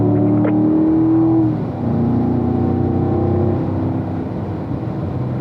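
Race car engine pulling hard out of a turn, a loud close droning roar with a tonal whine that drops briefly at a gear change, then holds steady, with no voices.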